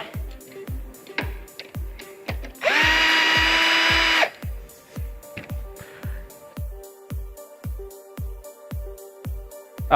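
A power drill or driver whines loud and steady for about a second and a half while backing out a suspension arm bolt on a BajaBoard, with a steady train of soft rhythmic ticks in the background.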